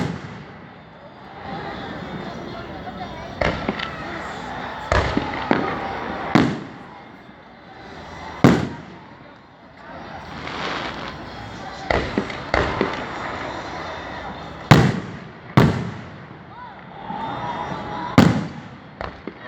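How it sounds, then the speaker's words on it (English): Fourth of July fireworks in Anchorage, Alaska, boom repeatedly overhead in irregular bursts, loud deep thuds with crackling tails, over faint background music and occasional voices. "Fireworks."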